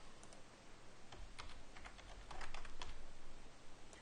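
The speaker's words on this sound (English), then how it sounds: "If I can type my email." Rapid keystrokes on a computer keyboard while an email address is entered into an online form: a fast, irregular run of clicks over a steady background hiss and hum, with no talking.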